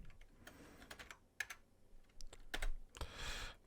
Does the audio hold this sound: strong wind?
no